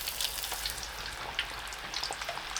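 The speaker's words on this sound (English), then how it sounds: "Preheat the oil to 340 degrees and fry the pork for about 4 minutes over high heat." Pork cutlets for tonkatsu deep-frying in oil at 340 degrees over high heat, a dense crackling sizzle with scattered sharp pops throughout, steady and close, without talk.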